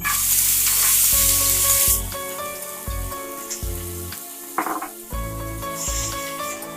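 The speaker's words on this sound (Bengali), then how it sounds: "যে মটরটা রেখেছিলাম এটা আমি এতে ভেজে নেব" Peas frying in hot oil in a pan, a strong steady sizzle with clinks and scrapes of a spoon against the metal as they are stirred, loud and close with no talk.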